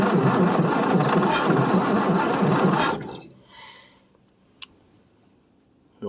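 A 1967 Chevrolet C10 small-block V8 engine cranks close and loud on a cold start with a weak battery, a steady rhythmic churn for about three seconds, then cuts off into near silence with a faint click.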